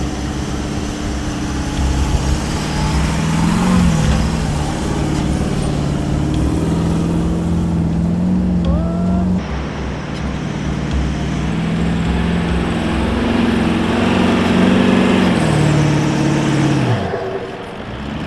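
A 4WD engine strains at about half throttle while towing a 3.5-tonne off-road caravan through soft sand on Moreton Island, a loud sustained drone with shifting pitch that drops away sharply near the end, with no speech.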